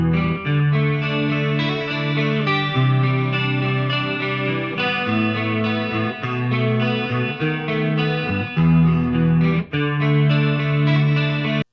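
A loud, distorted electric guitar plays a chugging riff with sustained chords, washed in reverb that gives a roomy, spacious tail.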